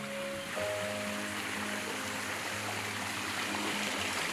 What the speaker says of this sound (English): All you hear is the animals and the waterfall as you walk in.